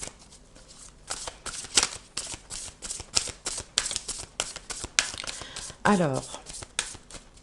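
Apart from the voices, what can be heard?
shuffling tarot cards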